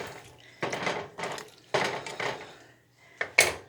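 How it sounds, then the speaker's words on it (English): Kung Pao chicken sauce being stirred in a pan, heard as four separate bursts of scraping and clattering against the pan with quiet gaps between. "Stir a little bit."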